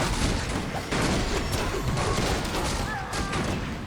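Massed rifle fire from Warcraft III human riflemen in a dense, continuous barrage of battle noise with crashes and impacts, steady and loud throughout.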